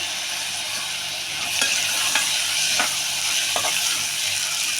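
Soaked dried peas hit a hot pan and hiss steadily while being stirred, a broad continuous sizzle with a few soft scraping clicks from the stirring, fairly close and with no voices.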